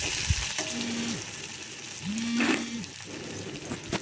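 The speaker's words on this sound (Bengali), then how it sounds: "তো পেঁয়াজটা হালকা করে লাল লাল করে ভেজে দেবো" Onions fry in a little fish oil in a kadai, giving a continuous bright sizzle, while two long, low cattle moos rise clearly above it in the background.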